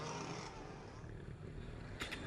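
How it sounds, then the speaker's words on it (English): Jet ski engines rev at the start line of a Pro Jetcross race in Vichy, a faint, distant buzzing drone that rises slightly in pitch, heard alone without speech. "The revs rise as they wait to be unleashed."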